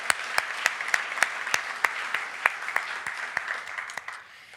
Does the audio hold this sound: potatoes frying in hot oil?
no